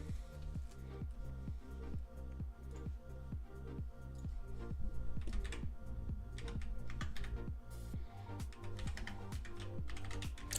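Rapid, steady clicking of a computer keyboard as someone types close to the microphone, keystrokes pattering in quick bursts for several seconds with no voices.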